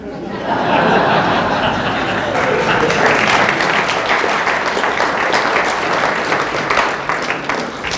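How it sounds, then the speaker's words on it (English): Audience clapping in a lecture hall after a remark by Professor John Lennox on science and God, starting abruptly and continuing as dense, even applause throughout with a few chuckles mixed in. "it is very kind of you to clap"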